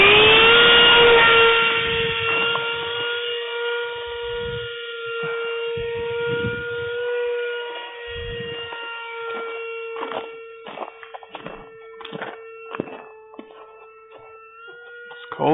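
A 70mm electric ducted fan on a four-cell RC F-22 jet model holds a loud, steady high whine with a few fluctuations over the whole stretch, joined later by scattered clicks and handling knocks outdoors in the cold.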